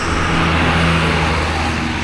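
A Dira Trans bus with a Jetbus 3 Plus HDD body pulls out onto a road, its engine rumbling loud and close under steady traffic noise with no speech.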